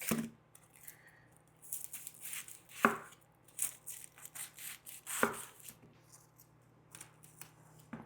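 A knife dicing onions on a cutting board for homemade onion rings, with irregular crisp chops and scraping, a few sharper thuds standing out, close and alone in a quiet kitchen.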